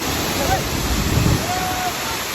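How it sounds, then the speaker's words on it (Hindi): A mountain waterfall roars at night on a Himalayan pilgrimage trek to Shrikhand Mahadev, a steady loud rushing wash of water filling the scene, with faint voices barely noticeable beneath it. "यहाँ पे झरना है बहुत गंदा वाला"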